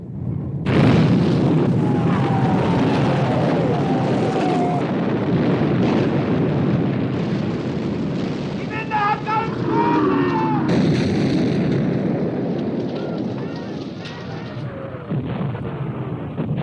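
Naval guns boom and shells burst in a World War II sea battle against the battleship Bismarck, a dense continuous roar of heavy gunfire and explosions layered over music and effects.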